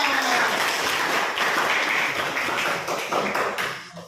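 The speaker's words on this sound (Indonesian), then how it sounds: "Tepuk tangan." A classroom of pupils breaks into loud, dense applause, many hands clapping together in a steady burst that fades slightly at the end.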